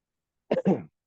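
A person with a fever gives a short double cough, two quick harsh bursts close to the microphone followed by silence.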